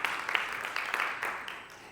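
A conference audience at a Tuskegee alumni association regional gathering claps after a speaker's prompt, a moderate, steady patter of applause for about two seconds that gradually fades toward the end.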